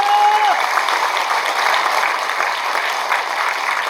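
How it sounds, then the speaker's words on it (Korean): Audience applause at a Korean People Power Party provincial chapter chairman's inauguration ceremony: a dense, steady burst of clapping from a crowd indoors, loud and continuous throughout, with a short tone fading at the start. "동의하시면 여러분들 박수 한번 주십시오"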